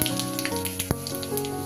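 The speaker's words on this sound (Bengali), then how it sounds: "এই তেলটার মধ্যেই আমি একটা তেজপাতা আর জিরে ফোড়ন দিয়ে দিই।" Bay leaf and cumin seeds sizzling in hot mustard oil, a close, steady crackle with scattered sharp pops, alone and without voices.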